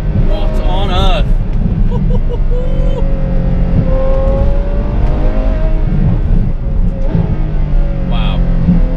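A Ferrari F12 fitted with an Innotech IPE exhaust revs loudly and close, its engine note rising and falling through several sweeps. Excited voices talk over it.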